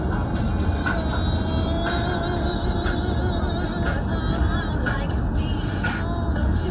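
A Mercedes CL600 C216 coupé with a V12 engine cruises along a country road, producing a steady low engine drone and road rumble heard from inside the cabin, with no talk.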